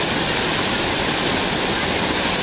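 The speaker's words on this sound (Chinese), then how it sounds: "三条鱼嘴里吐水" Water pours from three fish-mouth spouts of a fountain at a Yellow River waterwheel park in Lanzhou, a steady, loud, even splashing rush with no break and no voices.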